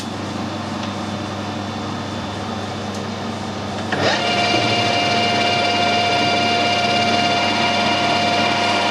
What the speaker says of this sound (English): Next operation is to drill it.